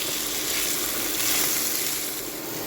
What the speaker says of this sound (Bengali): সব কিছু সবজি ভেজে নেব।